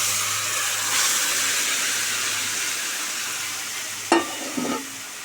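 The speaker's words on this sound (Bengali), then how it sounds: "এটা দিয়ে দেবো কড়ার মধ্যে।" Marinated chicken tipped into a kadai over fried chopped onion for chicken kosha, giving a steady hissing sizzle throughout, with a couple of brief clatters of stirring near the end and no talk.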